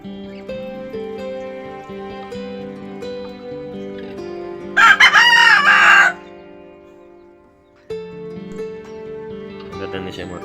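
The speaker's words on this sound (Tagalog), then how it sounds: "Atong manok labuyo mga kanungso." A junglefowl rooster crows once, loud and close, cutting through a steady tonal background with other sounds before and after.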